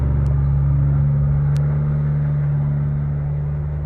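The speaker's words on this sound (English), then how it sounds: "This truck is particularly loud." A loud truck rumbles past at close range at a safari park in Chile, a heavy steady low engine drone that slowly fades toward the end.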